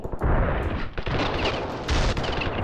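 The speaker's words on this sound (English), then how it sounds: "I love it that those missiles literally come down" Orbital bombardment missiles slam down and explode in the Ravenfield video game, a dense, loud run of booming blasts and gunfire-like cracks rolling together with a brief dip near the middle.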